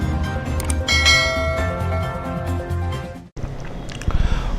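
A bright ringing bell tone, used as a subscribe-bell sound effect, sounds loud and clear with layered metallic overtones, then cuts briefly before a second brighter shimmer closes it.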